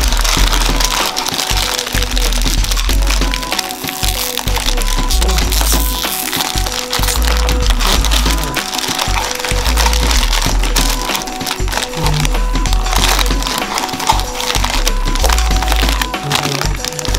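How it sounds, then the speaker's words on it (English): Two bags of chocolate chips pour into a glass bowl over a double boiler, a steady dense rattle and patter of small pieces that runs on without a break. "chocolate chips that I'm using. So I'm going to add 2 bags"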